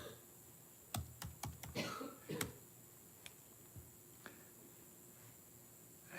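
Quiet clicks of a computer keyboard as a short number is typed, a quick run of sharp keystrokes followed by a few sparse, isolated taps in an otherwise quiet room.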